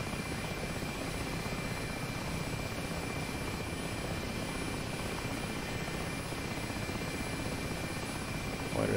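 An Mi-8 helicopter in the DCS flight simulator: steady rotor thrum and turbine whine, a constant dense drone that stays even and loud throughout, with no talking.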